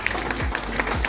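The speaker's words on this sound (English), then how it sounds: "let's give him a round of applause one more time." A round of applause from a cruise ship audience on Allure of the Seas, a brief burst of clapping that sounds close and dense, with no speech over it.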